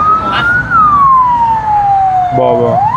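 An ambulance siren wails loud and close as it passes, its pitch sliding slowly downward, with road traffic rumbling underneath and a brief burst of horn-like tones near the end.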